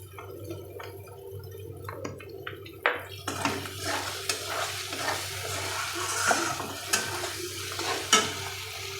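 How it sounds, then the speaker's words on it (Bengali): Water poured into sizzling spice masala in a pan while cooking steamed chital fish: rushing hiss and bubbling with stirring scrapes, loud and close, no speech. "এর ভিতরে আরেকটু জল দিয়ে দিচ্ছি।"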